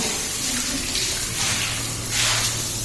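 Water gushes steadily from a tap during building cleaning, a loud continuous hiss and splash without pause.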